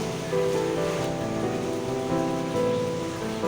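Steady rain falls on a rainy day, a continuous dense wash of drops hitting surfaces, fairly loud and unbroken, with no voices.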